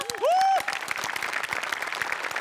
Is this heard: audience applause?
yes